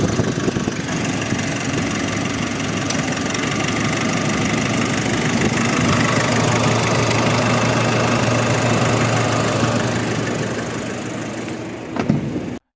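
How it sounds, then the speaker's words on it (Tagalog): A Nissan Urvan van's engine idles steadily and close by, a continuous low rumble with a faint knock, run to check whether its AC compressor engages; the sound holds for about ten seconds before easing and cutting off. "Paandarin natin para i-check kung aandar na ba ang AC compressor."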